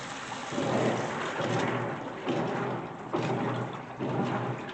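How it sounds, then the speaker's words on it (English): A GE top-load washer on its normal cycle churns clothes in water, with sloshing, swishing surges that rise and fall in repeated agitator strokes, steady and fairly close. "we have seen the agitation do very well on agitating the clothes around."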